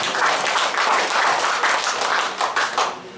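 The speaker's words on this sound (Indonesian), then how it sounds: "Berikan tepuk tangan buat Tuhan Yesus." A congregation at a Sunday worship service in an Indonesian Pentecostal church claps together in brisk, even rhythm, loud and close, then tapers off near the end.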